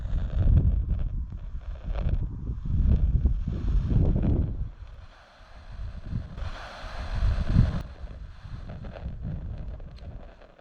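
Strong gusting wind buffets the microphone outdoors at Castle Rising, a loud, continuous low roar that swells and dips in waves with no voices over it.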